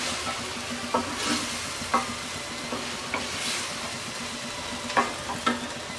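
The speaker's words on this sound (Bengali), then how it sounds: "আমরা অল্প আঁচে 2 থেকে 3 মিনিট রান্না করব।" Chickpea chaat being stirred in a pan over low heat, a gentle steady sizzle broken by intermittent scraping clicks of a spoon against the pan, close and without voices.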